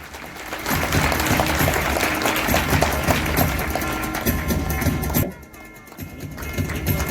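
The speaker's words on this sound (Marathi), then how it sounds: "एकदा जोरदार टाळ्या होऊ द्या" Enthusiastic audience applause at an award ceremony in Mumbai: dense, sustained clapping swells for several seconds, then drops off sharply before a quieter patter resumes.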